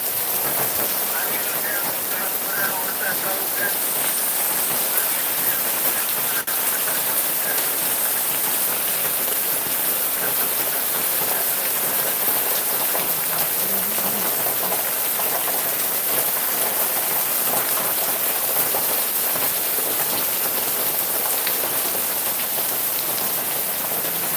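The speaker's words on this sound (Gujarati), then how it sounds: "બહુ સરસ મજાનો વરસાદ ચાલુ છે" Steady rain falls in a continuous, dense hiss that stays loud and even the whole way through, with no pauses and no other sounds rising above it.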